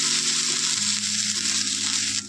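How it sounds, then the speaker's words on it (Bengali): Spices sizzle and fry steadily in a pan while cooking a ridge gourd curry, a loud, continuous crackling hiss close up, with no talking. "দিয়ে মশলাটাকে আমি একটুখানি ভেজে নেবো হালকা করে।"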